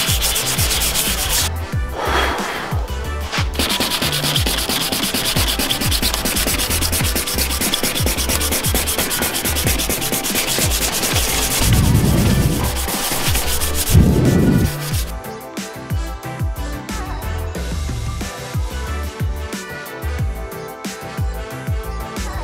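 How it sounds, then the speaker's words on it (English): Mazda Miata body panels being sanded in preparation for a wrap, a steady close abrasive rasping that continues without pause and becomes lighter and more broken in the final stretch. "now we are in the process of just sanding a little bit more"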